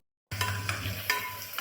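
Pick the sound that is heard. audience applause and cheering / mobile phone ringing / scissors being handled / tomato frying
tomato frying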